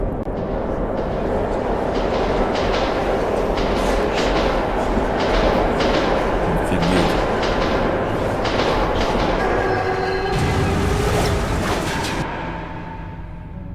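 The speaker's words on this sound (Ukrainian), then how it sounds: "Потяг." A metro train rumbles through an underground tunnel in the video game Metro 2033, a dense continuous roar with rhythmic clattering wheels that holds steady and eases off near the end.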